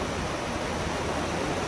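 Pouring rain on the Appalachian Trail, a dense, steady hiss of heavy rainfall that fills the scene evenly and loudly, with no voices.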